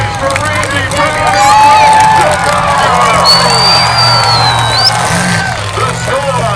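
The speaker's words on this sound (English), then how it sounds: "Make some noise for Randy Brennan." A crowd at a monster truck show in Naples roars and cheers loudly and continuously, with whoops and shouts rising over the din as an announcer's amplified voice rings out above it.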